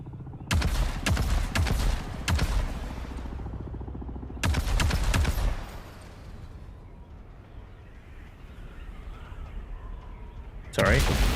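Missile launches and impacts in the video game Dune, coming as bursts of loud rapid-fire blasts, a longer barrage, then a rumbling lull before another sharp burst.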